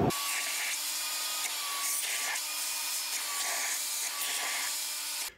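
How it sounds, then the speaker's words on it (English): A walnut blaster and a vacuum work on the carbon-fouled intake valves of an Audi 4.2 V8, producing a loud continuous rushing roar with a steady high whine and rhythmic scraping pulses, cutting off abruptly at the end. "we're gonna vacuum all this stuff out, and then we're gonna blast it again"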